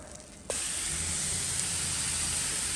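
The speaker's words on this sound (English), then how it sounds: "I'm about to turn the temperature up a little bit since it's about to fry these pork chops." Pork chops frying in a pan, a steady broadband sizzle that starts abruptly after a brief quieter moment and then holds level and close.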